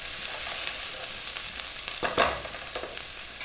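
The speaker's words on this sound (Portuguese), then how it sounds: "damos aquela boa refogada" Food sautéing in a pan, just starting to brown, makes a close, continuous sizzle. Brief bursts of stirring swell it around the middle, and nobody speaks.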